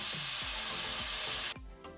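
Pork sizzles loudly in a hot pan with Chinese cooking wine, a dense hissing fry that cuts off abruptly partway through, leaving a quieter crackle with a few soft knocks.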